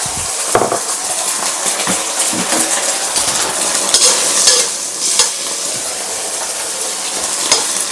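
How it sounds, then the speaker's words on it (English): A scrambled egg fries in a smoking-hot wok with two tablespoons of oil, making a loud, continuous sizzle, broken up by repeated metal spatula scrapes and clinks against the wok, with no talk. "Wok is smoking hot. Two tablespoons of cooking oil. 1 scrambled egg."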